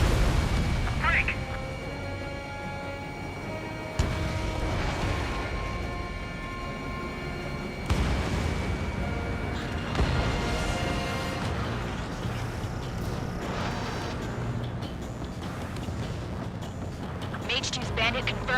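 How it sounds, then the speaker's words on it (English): Heavy gunfire and booming explosions from an Ace Combat 7 battle over a harbor, loud and continuous with repeated blasts, mixed with game music and radio chatter voices. "The harbor's under heavy fire!"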